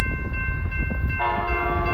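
A freight locomotive's multi-chime horn sounds loud and close, its sustained chord cutting in over the rumble of rail traffic. The horn's pitch shifts partway through, and the blast holds steady to the end.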